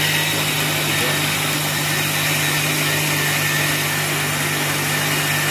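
Mixer grinder blending lime juice, a loud, steady whirring motor drone with a constant hum that runs unbroken for several seconds, close up and with no speech over it.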